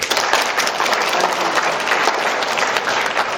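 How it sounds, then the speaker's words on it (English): Loud, sustained applause from an event audience thanking volunteers, dense steady clapping close by with no talk over it. "let's give our volunteer a round of applause"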